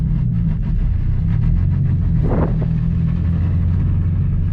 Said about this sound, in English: The noise that you're hearing is my welded diff in the back.